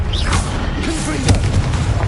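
Confringo blasting spell going off in Hogwarts Legacy, a booming burst with a sharp crack in the middle of busy spell-combat noise, fairly loud and short.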